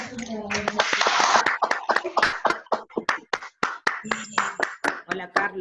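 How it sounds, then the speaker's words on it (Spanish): During an online law lecture, a few participants with open microphones clap in sparse, uneven bursts of separate claps, mixed with close talking voices. "Podemos abrir los micrófonos para aplaudir."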